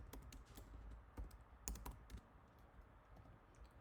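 Kotlin code being typed on a computer keyboard, a quiet, steady run of soft key clicks with a few sharper taps, close by and with no voice over it.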